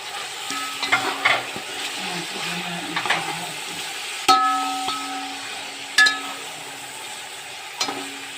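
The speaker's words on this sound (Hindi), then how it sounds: "ये मैंने 4 टमाटर लिए हैं," Four tomatoes frying with ginger-garlic paste and green chili for chicken sajji, a steady sizzle broken by occasional sharp metallic clinks of a spoon against the pot, close up and without speech.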